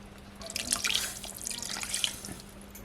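Water pours and splashes into a pot of chicken cooking on a wood-fired clay stove, a soft, steady trickle with a few brighter drips, fairly close and without talk.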